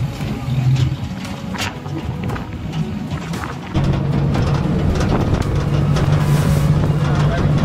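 Ride on a moving tractor along a rural road, a loud steady engine drone with heavy wind buffeting that grows stronger halfway through as the tractor picks up speed.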